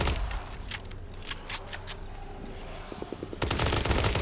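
The Blood Reaver gun in a first-person shooter game, sparse sharp shots early followed by a dense, loud rapid burst of automatic fire near the end.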